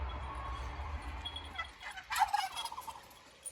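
Chickens and other farmyard fowl clucking and gobbling near a village coop, with a quiet low rumble at first and a louder burst of bird calls midway before trailing off.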